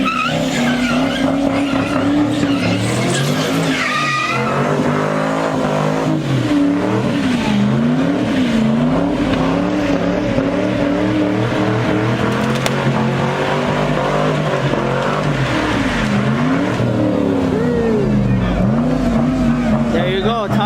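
A car doing a burnout at a big street car meet, engine roaring steadily with tire squeal and skidding throughout, loud and close, with crowd voices mixed in under the noise.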